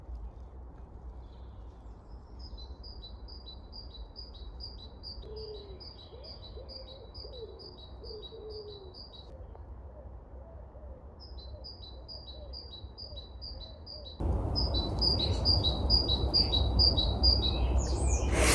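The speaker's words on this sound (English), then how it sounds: "I love the birds" Small birds chirp in a garden in spring, with repeated high tweeting phrases in bursts over a steady outdoor background; the background grows louder near the end.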